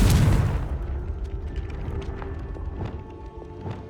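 A Confringo spell explosion in Hogwarts Legacy: one loud, close blast at the start that decays into a rumbling tail, with faint clattering debris and small sounds afterward.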